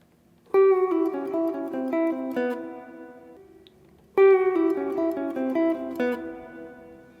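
A guitar plays the closing lick of a solo of 9/16/90, a short descending phrase with a bent opening note, pauses briefly, then repeats it, solo and clear.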